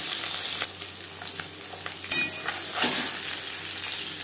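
Fish pieces fry in a pan with a loud steady sizzle, punctuated by a couple of sharper crackles and spatters as they cook.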